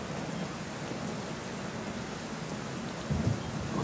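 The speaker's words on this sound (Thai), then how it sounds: "ให้ท่านผู้ชมฟังเสียงฝนไปด้วยนะฮะจะได้บรรยากาศพายุนะฮะ" Steady rain and thunderstorm ambience from the video game Kingdom, a dense wash of rainfall throughout with a low rumble of thunder swelling near the end, no voices.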